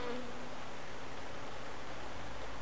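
Loose honey bees hum steadily from freshly arrived nucleus colonies, a dense, continuous buzz of many insects close by with no voices.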